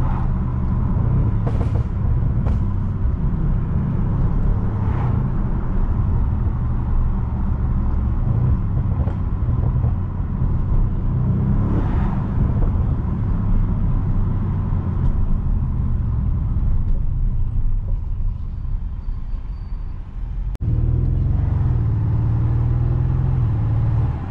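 From inside a car cruising through town at about 50 km/h, a steady low engine and road rumble continues throughout, with brief passing whooshes and a slight shift in tone near the end.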